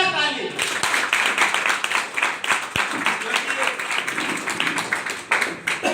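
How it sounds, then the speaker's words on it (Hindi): An audience claps loudly in a fast, uneven burst at a business gathering, a crowd of hands close and bright, with a voice briefly heard under it. "एक बार आप लोग के लिए जोरदार ताली।"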